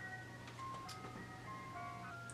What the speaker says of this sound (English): I'm trying to film right now and the ice cream truck is driving down my street.